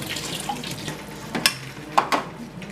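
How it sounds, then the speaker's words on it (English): Water poured into a pot of turkey gumbo on the stove, a soft splashing wash with a few brief louder splashes near the end, close by and alone. "I'm going to put in some water."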